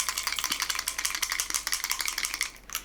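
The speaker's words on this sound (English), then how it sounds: "So I'm gonna give this a good old shake before I put it on her face." A makeup bottle is shaken hard before it is applied for a cosplay look, giving a quick run of close, even rattling strokes that repeat steadily with no talk.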